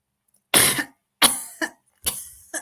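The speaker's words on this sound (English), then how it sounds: "I'm just going to try and cough this out." Three bursts of harsh coughing, close and loud, each a rough broadband hack followed by a shorter second cough, separated by brief silences.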